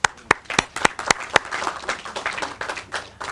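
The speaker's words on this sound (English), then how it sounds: "Can we give Jonathan another round of applause?" Outdoor crowd at a groundbreaking ceremony for new apartments claps; several sharp, evenly spaced loud claps from nearby hands ring out first, then blend into lighter, scattered applause from a modest group.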